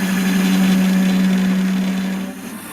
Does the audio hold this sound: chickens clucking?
no